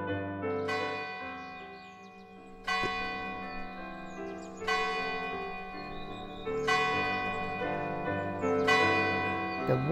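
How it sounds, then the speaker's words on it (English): A church bell rings on a Sunday morning, four resonant strikes spaced about two seconds apart, each blooming with rich overtones and ringing on as a long, humming decay into the next. "The one sound that everybody knew was Sunday morning when the church bell rang."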